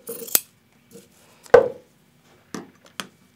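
Scissors cut fabric triangles off a quilt block a quarter inch from the stitching, giving a few sharp, separate snips and clicks spaced irregularly across quiet pauses, close and clear with no talking.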